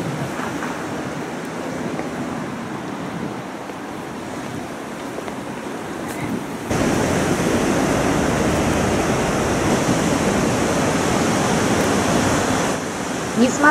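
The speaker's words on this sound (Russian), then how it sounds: "волны все равно огромные и не очень-то покупаешься" Large ocean waves break at Puerto de la Cruz on Tenerife, a constant roaring surf heard from the shore with wind buffeting the microphone, growing louder and fuller about halfway through.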